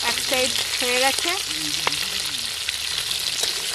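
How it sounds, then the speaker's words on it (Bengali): Fried fish sizzles steadily in hot oil while a few clear birdsong chirps and whistles ring out over the crackle; no one speaks. "মাছগুলো ভাজা হয়ে গেছে।"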